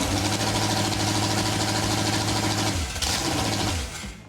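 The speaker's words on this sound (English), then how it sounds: "the engine fired right up in our parking lot." A small-block Chevrolet V8 engine idles with a loud, steady, rhythmic chugging in a parking lot, then the pitch shifts as it settles down near the end.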